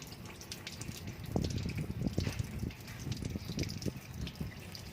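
Old yellowed radiator coolant drains from a car's radiator plug and splashes onto the ground in a steady gushing trickle, with irregular drips and splatters layered over it.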